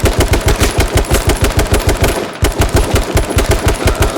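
Rapid automatic gunfire in the battle-royale game H1Z1: King of the Kill, a loud, close, evenly spaced burst of shots lasting several seconds with a brief break midway before firing resumes.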